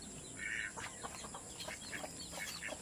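Farmyard chickens on a rural Philippine homestead, with several short clucks and chirps at moderate distance over steady outdoor background hiss.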